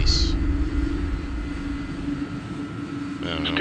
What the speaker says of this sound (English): Kind of like a strange airplane to be flying.